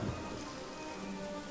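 Rain and thunder from a spell in the video game Divinity: Original Sin, a dense, steady hiss of rainfall with a low rumbling undertone, filling the whole short stretch without voices.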